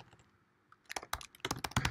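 Fingers tap at a computer keyboard, starting with a quiet pause and then turning into quick, uneven bursts of crisp close-up key clicks, with no talking.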